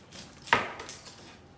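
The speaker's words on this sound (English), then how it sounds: "we're going to start with chopping up the onion" A single knife chop cuts through an onion on a board, one sharp close thud amid quiet kitchen ambience.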